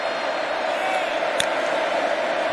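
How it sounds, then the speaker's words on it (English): Large football stadium crowd at a Texas A&M vs Arkansas college game, a steady broad roar of cheering and noise filling the whole stretch, with one brief sharp spike partway through. "Crowd here alive"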